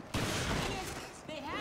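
A dense volley of gunfire in Resident Evil Revelations, a loud continuous crackle of shots filling the whole short moment, with voices mixed in.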